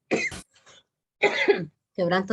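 Several short, harsh coughs come in quick bursts, one after another, sounding close and fairly loud, with brief silences between them.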